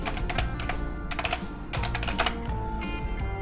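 Rapid, uneven typing on a computer keyboard as a search term goes into a website's search box, with close, crisp key clicks in quick bursts and short pauses and no talk.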